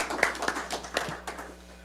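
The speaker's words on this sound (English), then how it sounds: "if you would join with me in a round of applause for the team" A few scattered hand claps at a regular city council meeting after applause is requested for the finance team, sparse and uneven, fairly quiet and fading off toward the end.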